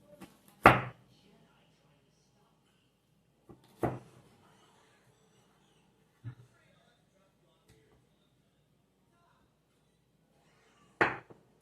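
A kitchen knife cuts through food in four sharp, widely spaced chops against a board, each a single crisp thud separated by quiet gaps; faint sounds of a child cooking in the background.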